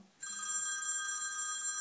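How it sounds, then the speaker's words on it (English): The iPhone 5's old phone ringtone starts abruptly as a steady, high electronic bell-like trill and rings on continuously, fairly faint, with no voices. "I actually chose something I thought would catch my attention, which was the old phone."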